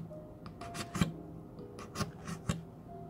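Holes are pierced into a plastic bottle cap with scratchy, rasping scrapes and a few sharp clicks at irregular intervals, quiet and close, with no talking.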